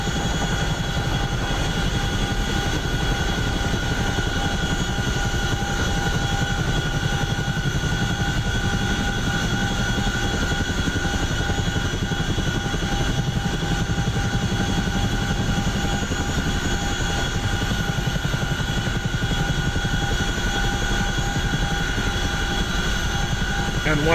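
Helicopter in DCS World descending to land on a landing zone, a steady, loud rotor and turbine drone running continuously throughout, with a voice speaking over it at times.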